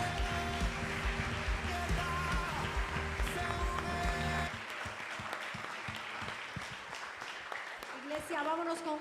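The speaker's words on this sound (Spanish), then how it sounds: "Dele un fuerte aplauso al Rey." Church congregation applauding loudly after a call to honor the King during a worship service, dense clapping throughout with music playing underneath and voices rising toward the end.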